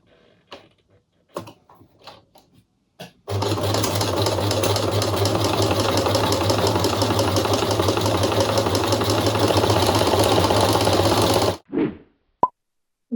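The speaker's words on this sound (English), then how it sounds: "I'm going to keep sewing circles going all the way up till I get to the seam with the side piece" A sewing machine stitches continuous circles around a fabric bucket hat, a steady loud mechanical whir lasting about eight seconds before it stops, preceded by a few faint handling taps.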